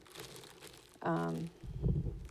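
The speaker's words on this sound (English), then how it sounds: "It's heavier than typical cellophane. It's made specifically for fruit baskets." Heavy cellophane made for fruit baskets crinkles loudly in one short burst, with quieter handling rustle before and after it.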